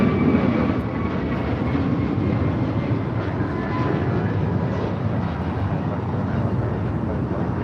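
A Boeing 777-300ER airliner in from Tokyo Narita at Los Angeles gives off a steady, loud jet engine roar that holds an even level throughout, with no talk over it.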